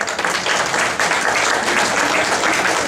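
Audience applause at a community meeting in a hall fills the space as a dense, steady wash of clapping that holds at an even, loud level throughout.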